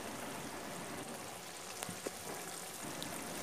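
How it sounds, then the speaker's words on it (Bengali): Boirali fish curry bubbling in a pan, a steady soft sizzle and gentle simmer with a few faint pops, close and continuous, no voices. "ভেজে রাখা বৈরালি মাছগুলো ওর মধ্যে ছেড়ে দেব। মাছগুলো দিয়ে দিলাম। আরও কিছুক্ষণ ফুটতে দেব।"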